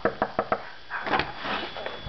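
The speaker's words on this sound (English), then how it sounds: "First knock on the door." Several knocks rap on a door in an early cluster, loud and close, before the sound gives way to muffled room noise and rustling.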